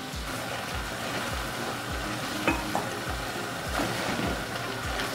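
Tomatoes and onions cook in a pan, producing a continuous gentle sizzle with a few small clicks of stirring utensils, heard alone at moderate distance.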